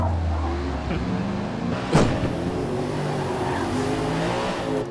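Race cars in a racing video game roar along a track, a steady engine rumble with one sharp burst as a car passes close by, with no voices.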